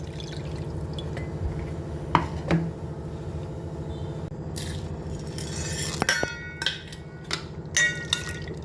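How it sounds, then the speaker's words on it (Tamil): Pani puri water, ground with masala, turmeric and salt, being strained in a home kitchen: steady dripping and trickling with scattered light clinks of utensils against a vessel, with no talking. "இந்த பானி இப்படி வடிச்சிடலாங்க"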